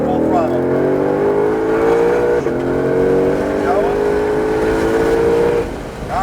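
A Ford Shelby GT500 Mustang on a track at full throttle, its engine note rising steadily and loud across several seconds with a brief dip as it shifts, while voices talk over it.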